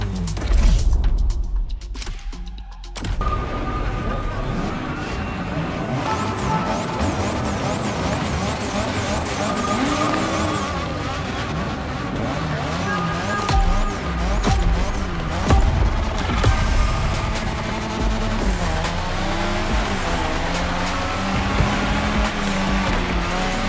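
A Mazda RX-7 drifting in The Crew Motorfest racing game, its rotary engine revving and wailing continuously with squealing tires, loud and close over about twenty seconds.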